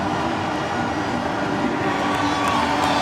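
Stadium crowd cheering at a West Indies v England cricket match, a dense, steady roar of many voices filling the ground with no break, loud and sustained after a big hit.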